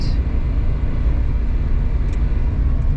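Engine of a 1990 Mitsubishi Bravo van pulling away in first gear, a loud, steady low rumble with droning engine tone heard from inside the cab.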